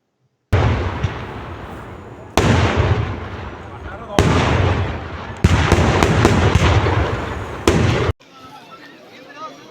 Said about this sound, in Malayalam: മണൽത്തറയിലെ കുതിര ഈ വിളിക്കുന്നതിന് മുമ്പുള്ള വെടിക്കെട്ടാണ്